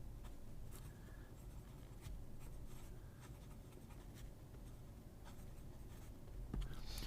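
A mechanical pencil with a hard lead scratches and scrapes across paper, pressed firmly and close up. The soft, continuous strokes carry light taps and pauses between words.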